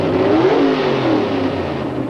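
An NHRA Pro Stock drag car's 500 cubic inch engine launches from the starting line at about 8,500 RPM in a 1989 final round, a loud, close roar that climbs in pitch and then holds steady, with no talk over it.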